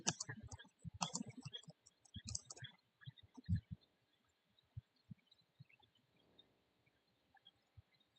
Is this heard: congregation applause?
no